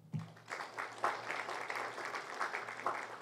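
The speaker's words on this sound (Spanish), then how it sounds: "Aquí recibimos con un fuerte aplauso." An audience at an evening legal lecture on corruption in Peruvian public procurement gives a speaker a warm welcome with continuous clapping at moderate volume, over a faint low hum.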